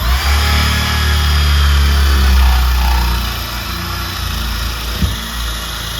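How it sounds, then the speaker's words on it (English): A power drill boring down into a wooden stair railing for balusters gives a loud, steady motor whine that runs continuously for the whole stretch, easing slightly toward the end. "once I get my drill started"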